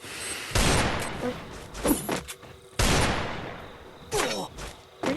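Gunfire in the Free Fire mobile battle royale game: loud, sharp bursts of shots arriving in several separate volleys with brief pauses between them, some close and punchy, others trailing off.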